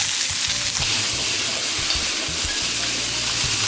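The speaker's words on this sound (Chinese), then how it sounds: "锅烧热下油， 先把鸭肉炒一下。" Duck meat stir-fries in hot oil in a heated wok, a loud, dense crackling sizzle that holds steady throughout with occasional stirring bumps.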